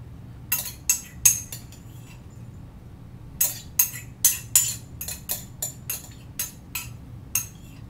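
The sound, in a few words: spoon scooping out mustard seeds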